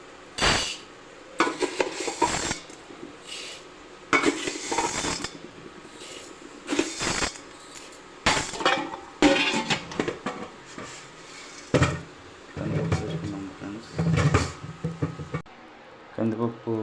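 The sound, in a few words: washing toor dal in pots while cooking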